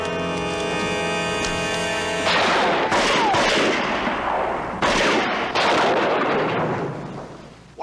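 Gunshots in an animated film, several loud, sharp cracks and booming shots ringing out over a sustained background tone, spaced irregularly across the scene.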